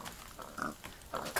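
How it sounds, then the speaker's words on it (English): Minecraft pigs oink in several short bursts as they shoot out of a mob spawner, the grunts close and fairly loud, spaced irregularly over a steady low game background. "You have to get really lucky to hit one of these pigs as they fly out."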